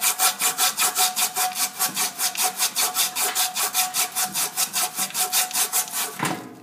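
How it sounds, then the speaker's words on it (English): Sandpaper rubbed by hand around the shaft of an ECM motor during replacement work, a steady fast rhythm of rasping back-and-forth strokes, close and loud, with no talking. "I'm going to take sandpaper, and I'm going to sand this as close as I can to the shaft here"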